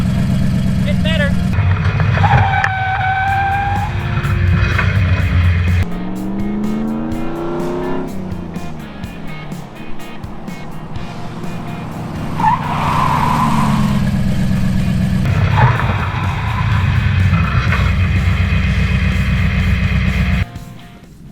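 Ford Ranger pickup on a brake test run after a new master cylinder and proportioning valve install, its engine droning and revving through shifts as it drives along, with tyre and road noise and people talking over it inside the cab.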